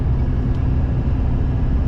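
An old water truck rumbles steadily down a desert highway in Nevada, a loud, continuous low engine and road drone with no breaks and no talking.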